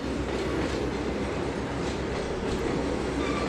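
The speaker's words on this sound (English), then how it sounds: "here comes another train." A train rolls past on the rails in the Trainz 2022 railway simulator game, a continuous heavy rumble with a steady metallic clatter throughout.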